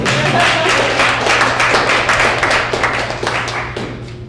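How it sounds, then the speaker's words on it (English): Applause from a symposium audience, with dense, close hand claps rolling at an even rhythm that gradually thin and fade over several seconds. "applause."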